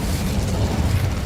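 A burst of fire from the Incendio spell cast in Hogwarts Legacy, a steady roaring whoosh with a loud low rumble that holds for just over a second with no speech.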